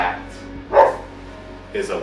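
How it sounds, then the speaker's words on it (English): A dog barking to be let back inside, with two or three short muffled barks spaced apart over a continuous background hum, fairly close but not loud. "And that was my dog that wanted back inside."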